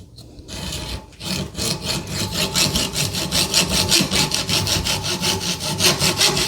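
A handsaw cuts through wood during a barn window rehab, a brief scrape at the start and then a steady back-and-forth rhythm of strokes building to a loud, close, rasping cut that carries on to the end.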